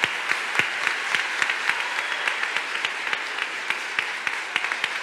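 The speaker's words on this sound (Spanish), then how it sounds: "equipo de sonido, de luz, un aplauso para ellos también," A graduation ceremony crowd gives steady applause to the sound and lighting crew, an even patter of many hands with a few sharper, closer claps standing out throughout.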